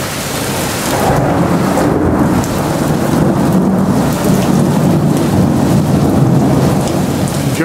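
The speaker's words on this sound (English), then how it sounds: "It's almost continuous thunder now outside, and really coming down, but we don't have much wind." During a storm under a tornado warning, almost continuous thunder rumbles a couple of miles away over heavy rain pouring down outside, with little wind. The sound is a loud, steady downpour under a constant low roll, with no talking.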